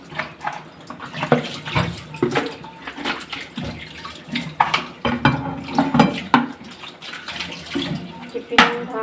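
Running tap water splashes over a tiffin box as it is rinsed in a sink, with intermittent clinks and scrapes of the metal container, steady and close, with a voice speaking briefly.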